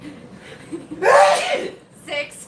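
One loud, sharp sneeze bursts out close by, followed by a brief breathy laugh, with people talking before and after it.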